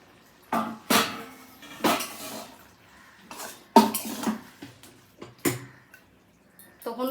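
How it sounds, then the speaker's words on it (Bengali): A metal lid comes off a pot of bottle gourd and prawns, with a series of close clanks, knocks and scrapes of metal cookware at irregular intervals over a quiet background. "ঢাকনা খুলে দেখি কেমন হয়েছে"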